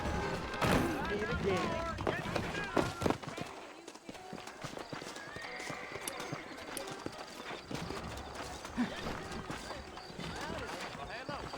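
Horse hooves clip-clop at a running pace amid game sounds and voices talking in Red Dead Redemption, with a brief lull before the trotting resumes.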